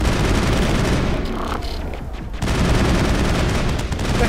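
Gunfire in the Mass Effect video game: a dense, loud fusillade of rapid shots that briefly thins in the middle before the barrage resumes at full force.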